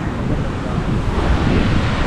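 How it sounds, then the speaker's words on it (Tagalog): Large ocean waves roll and crash continuously, a loud, close roar of surf mixed with wind buffeting the microphone. "Napakalaki ng alon."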